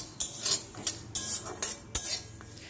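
Whole spices frying in a pan, with the sizzle mostly covered by rhythmic scraping and clinking of a metal spoon against the pan, about six strokes in under three seconds.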